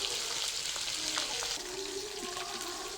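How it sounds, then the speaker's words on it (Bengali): Fish heads frying in hot oil over a kitchen stove give a steady, dense sizzle that crackles throughout, with a few brief clinks and scrapes in the pan and no talking. "মুড়োগুলো ভাজা হয়ে গেছে"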